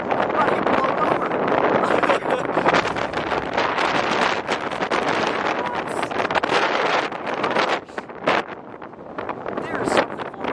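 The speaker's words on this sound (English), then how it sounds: "Holy crap, this wind is crazy." Strong wind buffets and roars into the microphone on a storm chase across open cornbelt country, a loud, constant rumbling rush with gusts, while someone talks excitedly through it.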